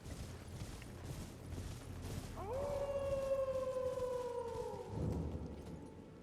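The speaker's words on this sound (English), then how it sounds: "we hear the howling, a familiar howl." A wolf howl in Elden Ring rises from about 2.4 s, holds a long steady tone and drops off near 5 s, over a low ambient game backdrop with no talking.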